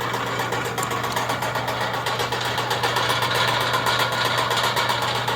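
The auger drive motor on a rebuilt DMC 40 Hi-Cap rotary grain cleaner runs at a steady pace. It makes a loud, constant mechanical drone with a low hum and a fast, even rattle all the way through.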